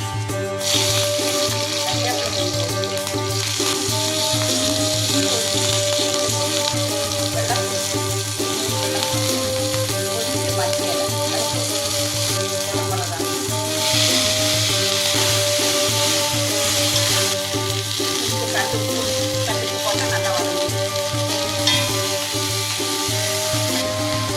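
Ingredients for capsicum chutney, including dal, coconut, green chilies and tamarind, sizzle and crackle in a hot pan, with steady close frying and occasional stirring scrapes that run unbroken throughout.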